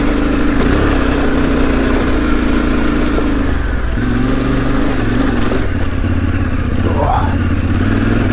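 A Yamaha Tenere 700 adventure motorcycle climbs a challenging dirt track, its engine droning loudly and steadily under load with small shifts in pitch, close to the rider.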